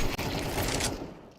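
AK rifle gunfire in a competitive shooter game comes as a close, rapid burst of automatic shots lasting about a second, then cuts off into quieter background.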